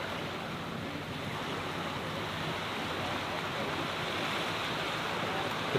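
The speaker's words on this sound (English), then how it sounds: "The calm sound of the waves lapping the shore is very chillaxing." Steady broadband wash of water beside a ferry travelling from Pyrmont to Manly, constant and fairly loud with a rushing wind-like texture, no distinct lapping rhythm.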